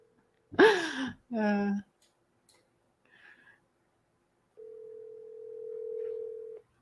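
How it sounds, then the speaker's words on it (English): A telephone dial tone heard while placing an outreach call, a steady single tone holding for about two seconds near the end, after a couple of short voice sounds and a faint click earlier. "Calling Adam on the Chandler list still"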